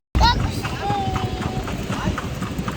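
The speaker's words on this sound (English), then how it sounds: "Having a quick ride in a horse." Horse hooves clip-clop in a steady trotting rhythm during a short family horse ride, close and fairly loud, with voices and street sounds in the background.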